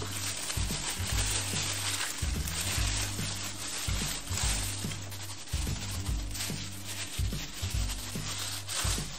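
A raw minced meat mixture squeezed and crushed by hand, close wet squelching and rubbing in repeated bursts.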